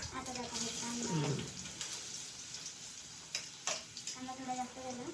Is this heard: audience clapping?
no